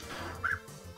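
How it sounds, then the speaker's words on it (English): A single short, high bark from a dog in the game Undertale stands out briefly over a low background. "Unless your dog is barking excited."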